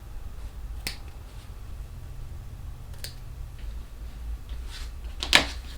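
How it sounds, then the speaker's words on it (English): Scissors snip fabric corners for a zipper bag, a few sharp isolated cuts spaced apart against a quiet room with low hum. "I'm going to cut those boxes out"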